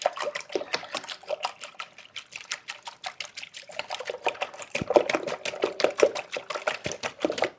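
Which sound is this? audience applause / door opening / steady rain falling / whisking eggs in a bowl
whisking eggs in a bowl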